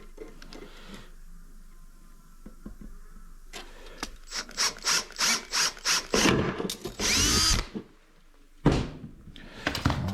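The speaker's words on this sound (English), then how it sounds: "Right, and then we've got our pop rivet to try to drill through." A cordless drill with a 3/16 bit bites into a pop rivet on an LED video light housing in short repeated bursts, then runs in a longer whine before scraping and handling noises, close up with no talking.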